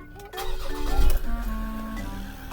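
A car engine cranks and catches, then settles into a steady idle hum with a faint whine, close by; the car has a transmission fault.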